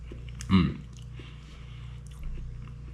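Biting into a soft Filipino piaya flatbread coated with crushed nuts, one close bite followed by quiet, faint chewing in a still room.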